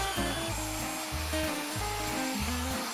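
Wooden boat bowsprit being sanded with 80-grit paper by a power sander, a steady rough whirring hum with rhythmic pulsing strokes repeating about every half second, close and alone.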